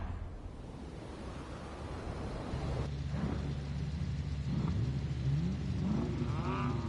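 A Pagani Zonda's engine in a racing video game rumbles low and steady, then revs and climbs in pitch through several rising sweeps, fairly faint under a broad background whoosh.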